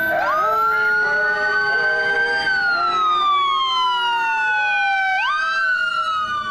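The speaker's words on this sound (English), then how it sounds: "Here comes the fire engine." A fire engine siren wails loud and close, sweeping up and down in long steady glides as the truck arrives for a 104-year-old Battle of the Bulge veteran's birthday celebration in Montgomery County.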